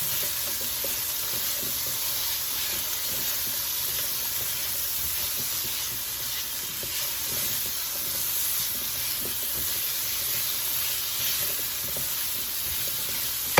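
Vegetable curry being stirred in a pan, a continuous close sizzle and hiss with faint scraping of the spoon throughout.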